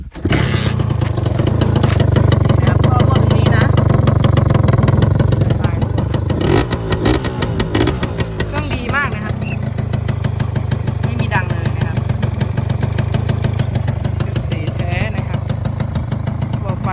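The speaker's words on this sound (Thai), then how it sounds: "เดี๋ยวฟังเสียงเครื่อง" A Honda Tena New 5-speed motorcycle engine with a leaking exhaust idles loudly and steadily nearby, its throb dipping briefly midway before settling back, with a voice faintly under it.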